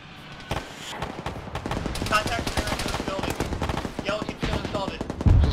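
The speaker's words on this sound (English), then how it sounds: "Taking shots from the rear." Rapid automatic gunfire in the Arma military game, dense bursts of shots rattling in quick succession, some close and sharp and others farther off, continuing steadily and growing heavier toward the end.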